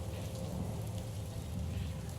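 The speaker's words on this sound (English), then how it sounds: "it is raining in the game right now" Steady rain pours continuously in a dark vampire role-playing game, a dense, even hiss of falling water close around with a low rumble underneath, no voices over it.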